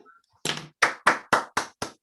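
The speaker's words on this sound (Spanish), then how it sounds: "Un aplauso virtual." A few separate hand claps in an online session, about six sharp, evenly spaced slaps close to the microphone after a faint noise at the start.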